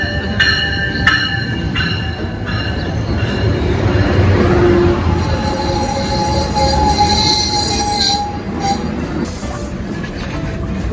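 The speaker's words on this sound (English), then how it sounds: "Here comes the train." A Metrolink train pulls into a station, its wheels squealing loudly and steadily over the rumble of rail cars for the whole stretch, with no voices.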